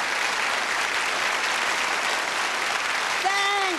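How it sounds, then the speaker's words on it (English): A talk-show studio audience gives Bette Davis warm applause that is close and steady and fills the whole stretch. A voice comes in briefly at the very end. "there was almost a standing ovation for just being on the show"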